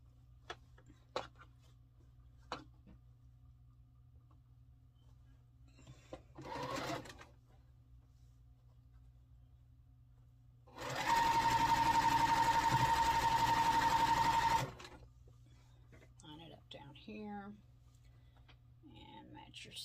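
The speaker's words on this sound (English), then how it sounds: "flip them over and sew them, and then I'll press it all at the end" A sewing machine stitches quilt block pieces for a sampler block in one steady, loud burst of about four seconds, with quiet talk and small handling noises before and after.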